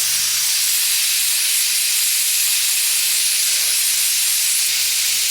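Compressed air blasting over a tire where a plug was burned and melted in, a loud continuous broadband hiss held steady without a break.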